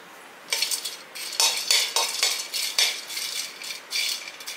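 Cardamom pods and mace roasting together in a pan, stirred so the dry spices rattle and clink against the metal in repeated short bursts, close up and with no talking.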